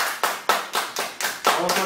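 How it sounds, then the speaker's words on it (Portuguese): A single person claps in a loose rhythm of about eight sharp, close hand claps during a casual Portuguese-language podcast about a film, each clap loud and followed by a short decaying tail. "Palmas pra mim!"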